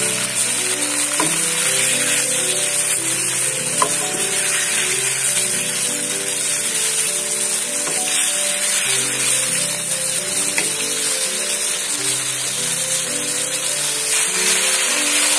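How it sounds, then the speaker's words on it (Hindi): Chicken pieces sizzle over a high flame for black pepper karahi, a steady, even frying hiss with light crackles that continues without a break, alongside soft background music. "चिकन को 2-3 मिनट फ्राई करूंगी, जब तक इसका कलर नहीं चेंज हो जाता अच्छी तरह से फ्राई करूंगी।"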